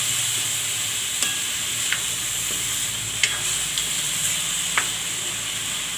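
Cauliflower and bottle gourd pieces sauté in hot oil in a pan with a steady, even sizzle, punctuated by a few sharp clicks and scrapes of a spoon stirring the vegetables.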